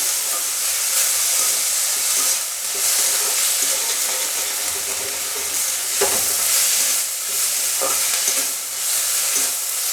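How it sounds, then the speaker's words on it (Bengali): Drumstick flowers frying with spices in a pan for a fish recipe give off a loud, dense, continuous sizzle and hiss, with occasional stirring scrapes close by and no talking. "সজনা ফুলটাকে অনেক সুন্দর করে মশলার সঙ্গে ভেজে নেব।"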